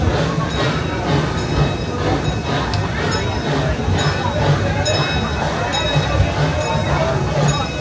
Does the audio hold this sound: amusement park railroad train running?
yes